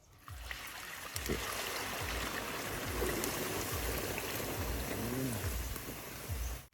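Beaten eggs pour and trickle steadily into a basin, a continuous wet splashing with faint voices murmuring in the background.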